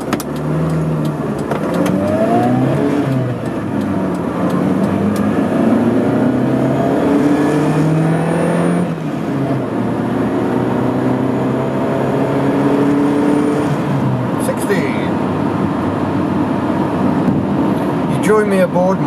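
Toyota RAV4 Mk1 pulling hard through its gears on a busy road, engine note rising and falling in long sweeps over steady road and wind roar, with a person talking throughout.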